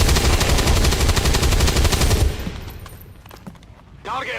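Sustained automatic gunfire in XCOM 2, loud and continuous for about two seconds, then giving way to scattered quieter shots and effects, with a brief voice near the end.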